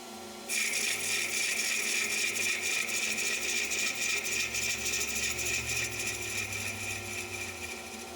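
A wood lathe spins up and turns a chisel handle, its steady motor whine joined by a continuous rough, hissing cut of the tool on the wood, close and loud throughout.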